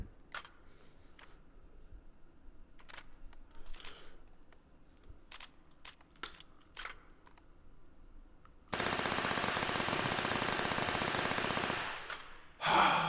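Sustained full-auto burst from a P90 bullpup submachine gun in the VR shooter Hot Dogs Horseshoes & Hand Grenades, a loud dense roar lasting about four seconds after several sharp scattered single shots and clicks.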